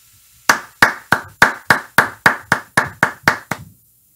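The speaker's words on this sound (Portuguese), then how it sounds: "Palmas." A single person claps eleven times in a steady, even rhythm, each clap sharp and close, then stops into quiet.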